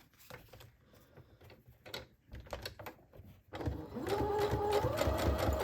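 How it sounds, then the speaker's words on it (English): A sewing machine stitching a small fabric tag: a few hesitant clicks and short bursts of motor first, then a steady close rapid whirring run of stitching. "A cute little tag like that. Tab. And we'll just sew it on."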